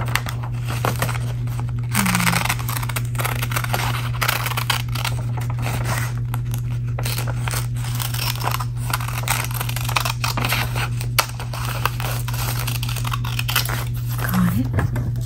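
Scissors snip through glossy magazine paper while a flower is cut out for a collage, soft crisp cuts and paper rustles repeating under a steady hum, with quiet talking.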